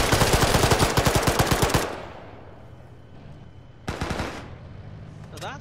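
Rapid machine gun bursts in the Arma military game (ShackTac) hammer loudly for nearly two seconds, then fall to a quiet rumble before two shorter, sharper volleys of gunfire cut in.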